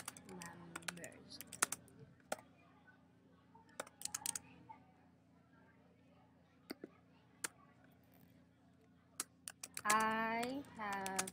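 Typing on a computer keyboard while composing an email, heard as scattered, quiet key clicks in short bursts with pauses over a low background hum; a brief voice comes in near the end.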